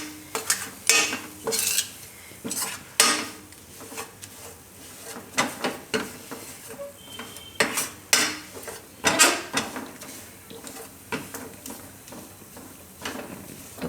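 Gram flour is roasted in a pan over a low gas flame and stirred steadily with a utensil. It makes repeated scraping strokes and light metallic clinks against the pan in an uneven rhythm, with no talking.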